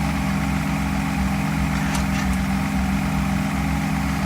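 A Mercedes 600SL engine runs steadily during a throttle test with a fault in its air supply, giving a loud, even drone close by with a faint higher whine, and no voices.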